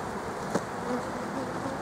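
Honeybees buzzing steadily at a small nuc hive, a dense close drone filling the whole moment, with a brief tap or knock partway through and no speech.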